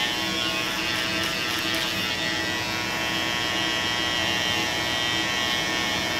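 Andis cordless hair clippers cut hair during a barber's haircut, a close, steady electric buzz with a bright whine that holds without pause and has no talk over it.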